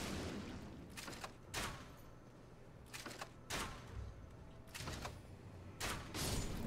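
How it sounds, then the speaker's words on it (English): Perfumer bolts bursting on contact in Elden Ring, a series of about six short explosive bangs at irregular intervals, each a fairly faint crackling burst. "I used the perfumer bolts that we got from those pages in the Weeping Peninsula. They explode a little bit on contact."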